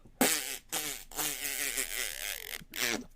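A long, buzzy farting noise made with the mouth, a voice imitating the sound in several sputtering bursts over about three seconds, loud and close with brief gaps between bursts.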